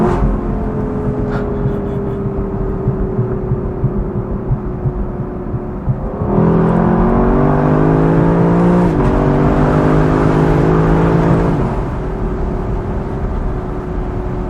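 A 2024 Lexus LC 500 Convertible's V8 revs hard from inside the car, its deep droning note climbing in pitch through the gears, growing louder midway, then easing back off.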